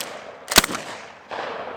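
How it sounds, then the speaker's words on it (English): A Winchester 97 pump shotgun slam-fired outdoors lets off one sharp, loud blast followed by a short decaying echo, then a burst of rustling noise. "Slam fire."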